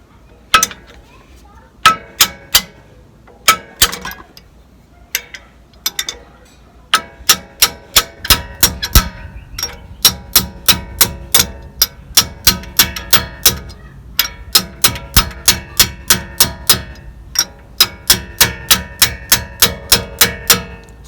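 The bottom edge of a truck body knocking against the frame of a 1994 Ford F53 chassis: a series of sharp, solid metallic knocks, sparse at first, then in quick regular bursts, close and loud.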